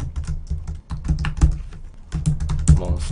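Fingers type on a computer keyboard up close, making a brisk, uneven clatter of keystrokes with short pauses between bursts and no talking.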